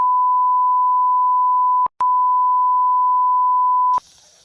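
A steady single-pitch censor beep tone runs almost two seconds, cuts out briefly, then returns with a short blip before a longer second tone, ending abruptly into faint room noise.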